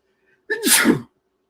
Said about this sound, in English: Why do I hate sneezing?